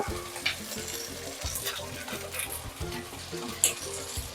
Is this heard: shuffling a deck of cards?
no